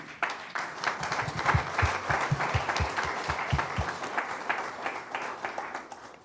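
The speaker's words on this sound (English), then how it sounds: "I think, first of all, that as a round of applause." Applause from the audience at a city council regular session, a steady round of many hands clapping that fills the room for several seconds at moderate loudness, with no talk over it.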